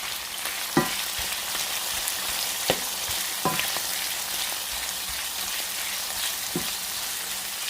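Shrimp sizzle and fry in a pan with sautéed chicken for spaghetti-noodle lo mein, a steady crackling hiss broken by a few sharp stirring clacks, with no talking.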